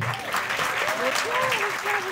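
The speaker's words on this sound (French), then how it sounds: "Ça s'applaudit." An audience at a cinema screening claps in a dense, even burst of applause that fills the room. Cheering or voices rise over it throughout.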